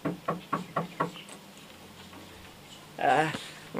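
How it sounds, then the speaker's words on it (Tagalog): Knocking on a door: five sharp, evenly spaced raps close by in quick succession, then a short pause before a voice speaks. "May kumakatok."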